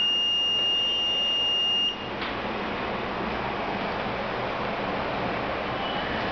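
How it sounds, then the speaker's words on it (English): A steady, high electronic buzzer tone from a CAN bus automotive alarm system sounds for about two seconds and then cuts off, leaving only a faint background hiss. "automatically a buzzer alarm going to indicate you in the same slave port"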